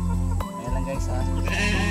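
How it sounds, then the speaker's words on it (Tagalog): A newborn lamb bleats loudly and close on a farm, a wavering cry that carries through most of the moment alongside other livestock noise. "Tupa."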